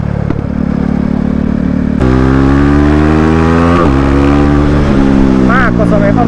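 A KTM RC motorcycle engine revs hard and climbs through the gears, loud and close, each pull rising in pitch before dropping at the shift, steady and continuous throughout.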